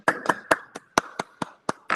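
Handclaps from a small group after a talk on economic policy in Argentina, sparse and fairly close, about nine distinct claps in a loose, uneven rhythm.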